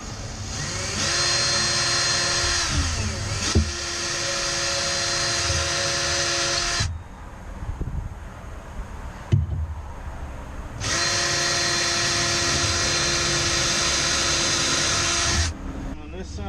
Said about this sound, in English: now we're going to drill our holes